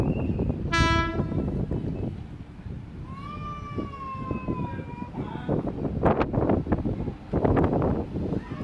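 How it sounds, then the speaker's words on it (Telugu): A Jasidih–Bengaluru train horn sounds loudly in a long harmonic blast on the Calcutta–Madras main line, then a second sustained horn tone follows, with rumbling rail noise and clatter continuing underneath. "చివరన్నా కదా హార్న్ కొడుతున్నాడు"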